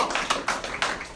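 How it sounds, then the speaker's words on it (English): Several quick, sharp claps at a press conference, a short sparse scatter of hands rather than sustained applause, close and fairly loud. "Can we get an applause for that?"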